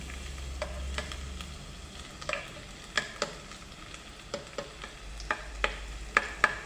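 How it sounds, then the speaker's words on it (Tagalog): Garlic sautéing in a pan, a low steady sizzle punctuated by sharp clicks and taps of a spoon against the pan at irregular intervals, close and quiet. "Sangkutsa lang natin yung bawang."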